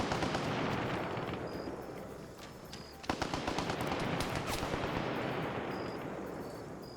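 Dense sustained gunfire from a Type 56 rifle with drum magazine in a Vietnam-era PvP video game match, a continuous rattling burst with a sharp renewed volley midway, loud and close.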